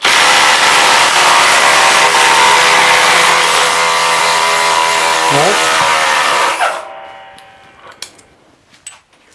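Two brushless impact drivers, a new DeWalt XR 845 and a Hercules, run hard together in a loud, steady buzzing whine that dips in pitch for a moment, then stops abruptly, leaving faint clicks and small knocks.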